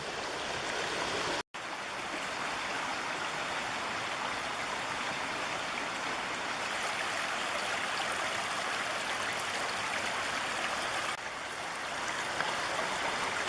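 A steady rush of the clear, cold Indian River near Sitka, Alaska, close and continuous, with a brief dropout near the start and no voices.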